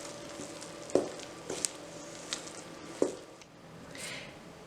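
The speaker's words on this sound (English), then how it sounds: "then we're just going to stir until well blended" Lukewarm water is stirred into flour for pizza dough in soft, wet squishing strokes, with a few louder knocks of the utensil against the bowl at irregular intervals.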